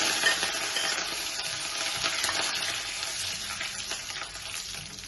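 Urad dal, curry leaves and dried red chillies frying in a pan, a steady close sizzle and crackle with faint stirring scrapes, no talk over it.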